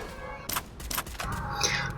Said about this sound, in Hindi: एनिमी दिखा, फिर इसके ऊपर मैंने गोली चलाई